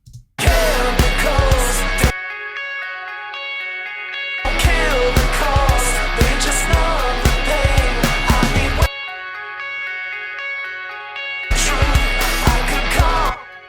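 Clean electric guitars play through a Friedman amp set to its clean channel, miked with a 57, for a cover. They come in three bursts of picked, ringing chords separated by silent gaps, with long ringing tails.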